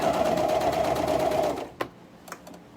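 A Bernina sewing machine stitches layers of tulle skirting onto a waistline with a 3/8 inch seam, a fast steady whirring hum that runs for a second and a half, then stops, followed by a few faint clicks.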